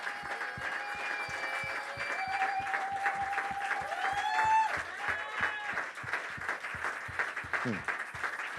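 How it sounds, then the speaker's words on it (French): A church congregation claps and cheers continuously, with rhythmic hand claps running throughout while voices shout and sing over them in a lively, reverberant hall. "Est-ce que tu peux continuer à acclamer?"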